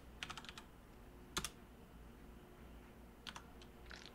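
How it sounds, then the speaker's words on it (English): Short bursts of quiet, close computer keyboard clicks from typing a command in Fallout 4, with rapid keystrokes separated by pauses and no talking. "Now what you want to do is freeze everyone. So you gotta type,"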